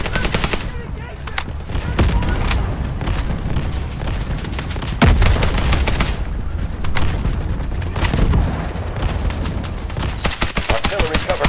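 Heavy artillery barrage in the Delta Force: Hawk Ops video game, loud and sustained, with repeated booming blasts and rapid bursts of gunfire layered continuously throughout.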